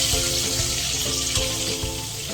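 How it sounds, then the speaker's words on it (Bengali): Steady, loud sizzling and crackling of pabda fish frying crisp in hot oil, a continuous hiss with occasional pops and no voices. "মাছগুলো এইভাবে মচমচে করে ভাজে নিতে হবে,"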